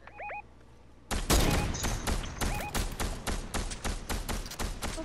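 Rapid bursts of gunfire in a Fortnite squad match, a dense string of sharp loud shots following a quiet opening with a couple of short electronic chirps.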